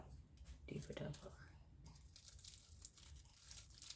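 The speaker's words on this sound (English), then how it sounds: "You hear the crumple" Faint crinkling and crumpling of material, heard as short rustling bursts close to the microphone with a soft voice murmuring underneath.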